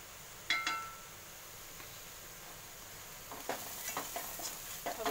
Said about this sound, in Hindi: इसको थोड़ा सा भुनेंगे ताकि मसालों का कच्चापन निकल जाए